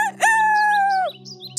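A rooster crows once, loud and close, giving a single sustained cock-a-doodle-doo that holds steady for about a second before dropping away. A low background hum continues beneath it.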